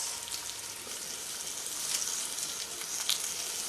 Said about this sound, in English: to our 2 cups of boiling water, 1 smashed clove of garlic, and about a ½ teaspoon of salt, I'm adding a ½ cup of grits